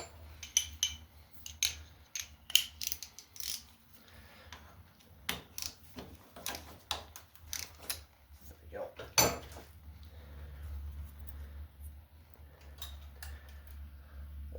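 Oil filter being worked off a Cub Cadet 2146 garden tractor, a series of sharp metallic clicks, taps and clinks in irregular bursts, close and fairly quiet, with a low hum rising toward the end.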